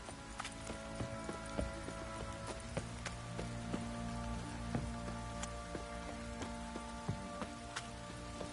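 Steady patter of rain in The Witcher 3 falling on a surface, with scattered sharper drops and occasional thumps, continuous throughout with no talking.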